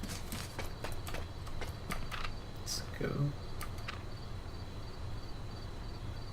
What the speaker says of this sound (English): Was that my footsteps? I heard footsteps.